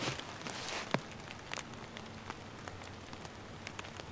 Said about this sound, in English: Yeah, it's raining out here.